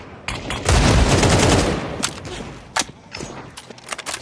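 Pistol fire in a Counter-Strike match, a cluster of sharp, close gunshots and a heavy burst early on, followed by scattered single shots in an irregular rhythm.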